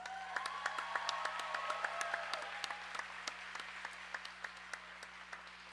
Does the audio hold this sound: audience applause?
yes